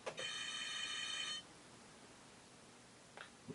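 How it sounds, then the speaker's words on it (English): A Commodore PET computer-generated big bell sound effect rings bright and sustained for about a second, then fades into quiet hiss before a short click near the end. "The big bell."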